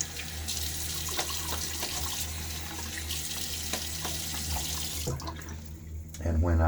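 Tap water runs steadily into a sink while a safety razor is rinsed under it, a close, even gush that ends in a brief clatter near the end.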